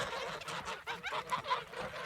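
A small flock of domestic geese honking and chattering nearby, with several overlapping calls in short uneven bursts. The calls are fairly faint and nobody speaks.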